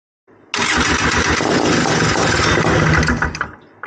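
A cold Honda Odyssey FL350 engine with an unchoked carburetor cranks and catches, settling into a loud, steady running clatter for about three seconds before it dies back down.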